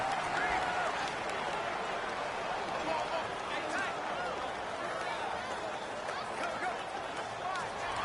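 Stadium crowd noise in Madden 19 during a simulated Ravens versus Panthers game, a steady roaring wash of cheering and chatter, loud and continuous throughout, with faint commentary voices beneath.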